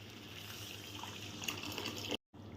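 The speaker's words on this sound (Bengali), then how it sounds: "এবার দিয়ে দেবো একটু পরিমাণ মতন জল।" Water pours steadily into a pan of bhetki fish curry, a continuous close gushing splash that stops abruptly near the end, with no talking.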